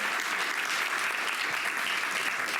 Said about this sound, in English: Let's give a big round of applause for Ryan